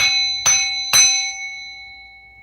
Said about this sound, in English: You already know what this bell is for.